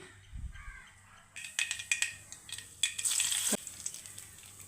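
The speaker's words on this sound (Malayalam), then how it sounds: "നമുക്ക് ഓയിൽ ഒഴിച്ചു കൊടുക്കാം കുറച്ച് കടുക് ഇട്ട് കൊടുക്കാം" Mustard seeds splutter in hot oil for masala dosa filling. After a quiet start, a burst of crackling, popping spatter follows and then fades, fairly soft and close, with no voices.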